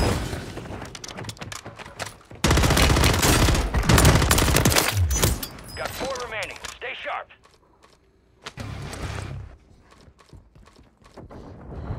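Bursts of rapid gunfire in Call of Duty: Warzone 3, loud clusters of shots separated by quieter gaps, with game sounds and a voice talking at times.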